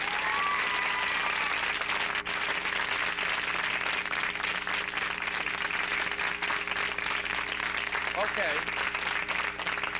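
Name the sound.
audience clapping hands loudly to test microphone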